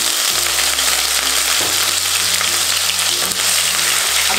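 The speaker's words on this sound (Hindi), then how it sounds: "अब हम इसमें डाल देंगे प्याज" Onions dropped into hot oil with cinnamon, black cardamom and green cardamom, a loud, dense, steady frying sizzle that fills the whole clip, with a low hum underneath.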